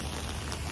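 Hard rain pours down outdoors, a dense, steady roar of drops drumming on surfaces, loud and continuous without pauses.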